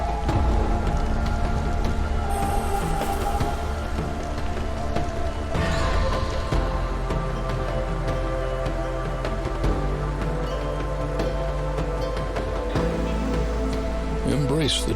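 Steady rainstorm from the video game Against the Storm, a dense, continuous hiss of rain on surfaces running throughout under layered music and sound effects, loud and unbroken.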